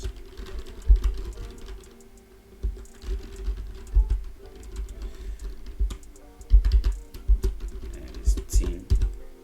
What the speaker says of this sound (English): I'll click on new and type the name of the item